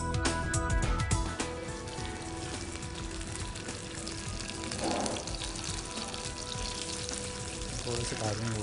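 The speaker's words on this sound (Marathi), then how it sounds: "आता आपण यांना भाजण्याची कृती चालू करूया।" Rice and potato vada cutlets frying in ghee, a soft steady sizzle, with clatter at the start and quieter background sounds.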